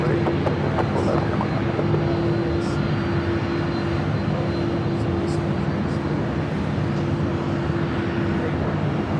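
A heavy jet airliner takes off from runway 24 left at LAX, a loud, steady, continuous engine roar with a sustained hum that fills the whole stretch.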